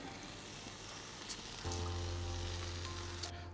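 Rice dropped into a pot with garlic and whole spices, a loud close sizzle and frying crackle that swells as the grains go in and continues steadily.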